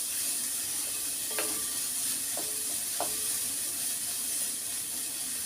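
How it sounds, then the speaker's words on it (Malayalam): Green beans sauté in a hot pan with a steady, continuous sizzle, broken by a few brief scraping stirs of a utensil against the pan. "ബീൻസ് ഒന്ന് വഴന്നോട്ടെ. നല്ലോണം വഴന്ന് വേകണം ബീൻസ്"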